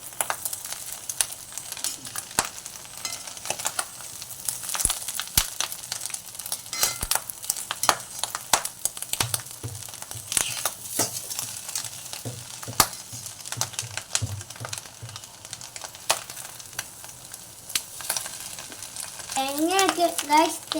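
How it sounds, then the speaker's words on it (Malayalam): Stir-frying in an iron pan gives a continuous close sizzle broken by irregular clicks and scrapes of the stirring spoon, with a brief voice near the end. "ഇത് നല്ലോണം ഫ്രൈ ആയി വരണമെങ്കിൽ ഈ ഇരുമ്പ് ചട്ടിക്കകത്ത് തന്നെ ഇളക്കി ചെയ്യണം."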